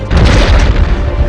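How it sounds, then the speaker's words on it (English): In Turok 2: Seeds of Evil, a tech arrow fired from the tech bow explodes in a loud, heavy, rumbling boom that stays strong for about a second before stopping suddenly. "the tech ones are pretty cool as they make a really ominous sound before exploding"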